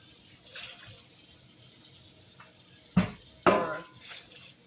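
Tap water runs into a pot being rinsed at a sink, a faint steady flow broken by two louder splashing sloshes and light clinks, close and without talk.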